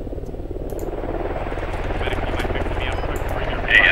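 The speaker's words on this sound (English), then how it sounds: "That's definitely an enemy chopper" An enemy helicopter in the military shooter Squad thumps overhead, a loud rapid rotor chop that builds steadily closer over several seconds.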